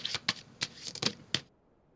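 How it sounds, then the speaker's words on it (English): A deck of Starseed Oracle cards is shuffled up close, giving five or six crisp riffling bursts in quick succession over about a second and a half before it goes quiet. "We're going to get some cards from the Starseed Oracle."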